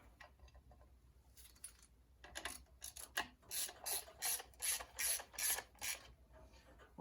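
Ratchet wrench tightening a bolt on the clutch of a 1959 Reliant Regal MkV under restoration, a steady series of rasping clicks in even strokes, close and fairly quiet.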